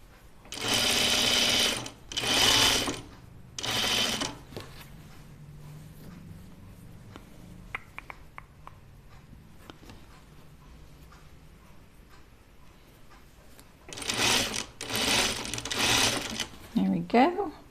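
Sewing machine stitching lightweight fabric for a shirtdress runs in loud, close bursts, three at the start and a longer run near the end, with quiet handling clicks of the fabric in between.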